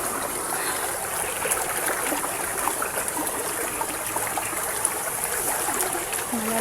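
Stream water flowing steadily with a continuous rushing, gurgling wash, close and fairly loud, with no talking heard.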